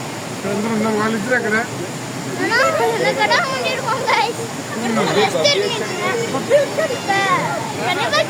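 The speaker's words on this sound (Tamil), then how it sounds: "இந்த வாட்டர் ஃபால்ஸ் நான் போயிட்டு வந்துட்டேன் கைஸ்" Rushing water at Dawki waterfall forms a steady broadband roar beneath people talking almost continuously nearby.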